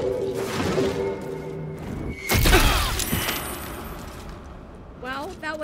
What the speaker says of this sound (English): Well, that was explosion fun.